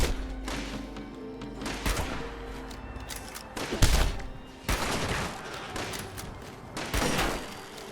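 Gunfire in the video game Fallout 76: a series of loud bursts and volleys of shots over several seconds, with heavy thuds, close and dominant.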